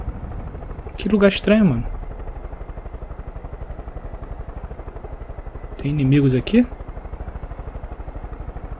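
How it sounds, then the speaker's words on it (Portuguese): A helicopter in Far Cry 5 beats steadily and close, a fast, even chopping pulse that runs under two brief bursts of speech. "Tem um helicóptero aqui, ó."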